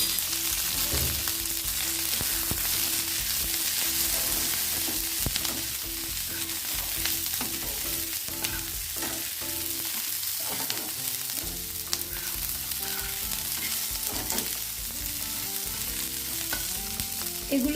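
Diced onion and capsicum sizzle in a pan for chilli paneer. The frying stays loud and constant, with stirring scrapes and clinks breaking through, and no one speaks.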